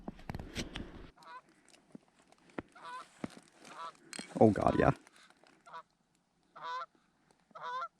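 Geese honk in short repeated bursts, some near and some farther off, during a North Dakota goose hunt in open country, with brief voices and a loud rustling burst in between.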